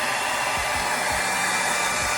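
Hair dryer on a hot setting blows steadily at close range onto a synthetic ponytail, a continuous loud airy roar with a low motor hum underneath and no speech.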